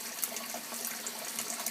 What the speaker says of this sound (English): very carefully sprinkle it across here, across the surface of the grain, and keep doing that until all the water's gone and our bucket's filled up